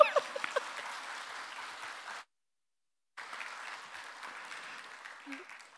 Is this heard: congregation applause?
yes